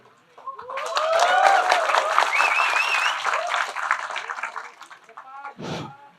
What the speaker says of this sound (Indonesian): Ini yang tepuk tangan.